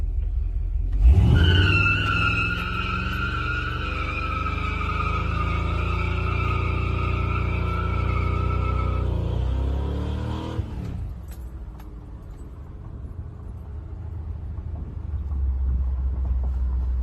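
A 1996 Ford F-150 pickup does a burnout: a loud, steady tire squeal rides over a roaring engine for about nine seconds, then the squeal stops and a lower engine rumble carries on alone.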